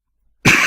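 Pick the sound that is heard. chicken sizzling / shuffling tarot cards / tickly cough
tickly cough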